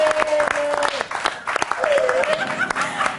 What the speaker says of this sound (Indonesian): Tepuk tangan dulu buat 3 tamu kita hari ini